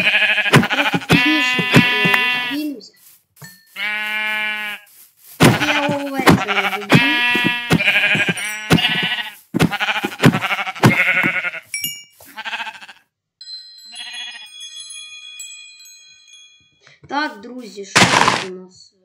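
Minecraft sheep bleat repeatedly in the game, loud and close, a long run of wavering bleats with short gaps, followed by a few scattered game sounds and more bleats near the end.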